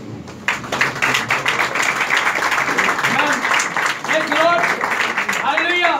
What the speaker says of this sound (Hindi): एक बार फिर महिमा की ताली देंगे।